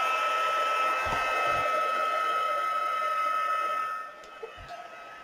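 A hair dryer blowing on a watercolour painting of surfboards, a steady close whirring hum for about four seconds that then switches off, leaving faint handling taps.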